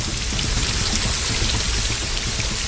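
A giant cartoon fire engine blasts a strong jet of water onto rain-soaked city streets, making a loud, continuous rushing hiss that stays even throughout with no voices.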